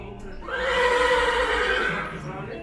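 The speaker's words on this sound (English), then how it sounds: "his sons tend to his Arabian horses" An Arabian horse gives a loud, close whinny lasting about a second and a half, rising then fading, with voices talking faintly around it.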